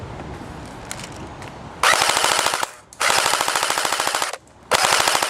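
A Cybergun FA-MAS airsoft rifle fires full auto in three long, loud bursts, a fast mechanical rattle of shots with short pauses between, heard up close outdoors.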